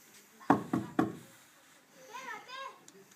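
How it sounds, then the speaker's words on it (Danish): Three quick knocks on a door during a children's play, sharp and close, followed by a voice speaking. "Vi går hen og banker på, ser vi om hun er hjemme."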